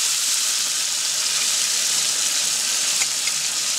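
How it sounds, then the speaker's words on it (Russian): Meat for Samarkand pilaf fries in a pan with a steady, bright sizzle and hiss that stays even and close throughout, with no voices over it. "Продолжаем обжаривать еще 2 минуты."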